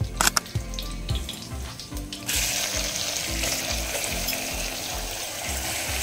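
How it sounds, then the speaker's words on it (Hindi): Onions hit hot oil with cumin and whole spices for a mutton gravy, starting with a few clinks and scrapes, then a sudden loud, steady, close frying hiss that holds to the end. "इसको प्याज नरम होने तक भूनेंगे।"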